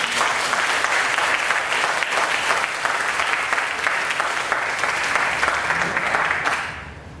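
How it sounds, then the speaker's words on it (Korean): Church congregation applauding for the choir, a full, sustained round of clapping from many hands that stays even and close before tapering off near the end. "우리 찬양대에서 한번 다시 한번 박수 드리겠습니다."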